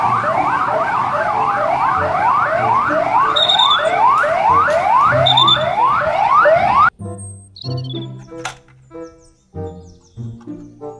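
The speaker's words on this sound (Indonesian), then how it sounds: "Mobil polisi." A toy police car's rapidly wailing electronic siren loops loudly for several seconds, then stops abruptly, leaving clicks and small knocking sounds.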